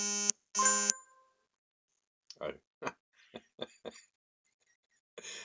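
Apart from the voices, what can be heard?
phone alert sound for disconnection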